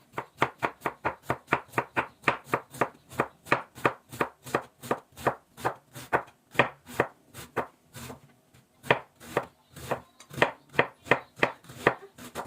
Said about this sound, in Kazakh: Капустамызды майдалап, әдемілеп турап аламыз.